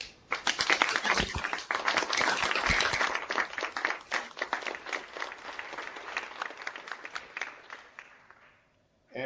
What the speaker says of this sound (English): join me and give a warm round of applause to Pro Football Hall of Famer Mr. Bruce Smit